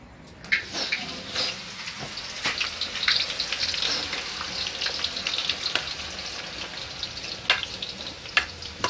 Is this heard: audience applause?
no